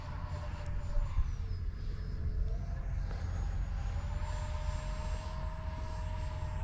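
A Freewing F-35 RC jet with a 5280RC afterburner flies inverted at a distance, its faint ducted-fan whine rising and falling in pitch over steady background noise.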